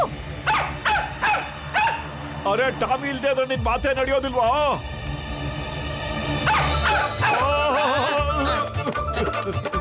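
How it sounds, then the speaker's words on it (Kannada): A cartoon dog from Motu Patlu barks in quick, repeated yips, then whimpers and yelps, loud and close, mixed with excited animated dialogue throughout. "ಈ ನಾಯಿನ ಬಚಾವ್ ಮಾಡಿ ಸಾರ್"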